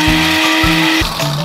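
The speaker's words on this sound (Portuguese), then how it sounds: "Com um liquidificador." A kitchen blender whirs loudly and close while breaking an egg, the motor pitch dropping and surging in short repeated pulses over about a second and a half, with no talk.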